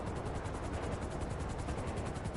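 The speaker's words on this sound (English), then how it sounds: "you need to listen to that sound of the helicopter and then drive carefully towards it" Luxury helicopter approaching in GTA Online, heard as a steady, faint rotor thrum with rapid pulsing chop over broadband noise, continuous and without speech.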